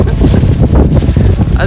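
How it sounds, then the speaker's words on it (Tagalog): Strong gusting wind in Kanazawa as a typhoon arrives, buffeting the microphone with loud, close low rumbles and a constant roar, under a voice talking. "Biglang lumakas yung hangin dito."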